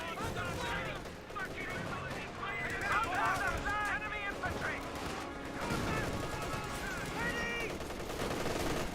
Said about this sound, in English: MG42 firing away.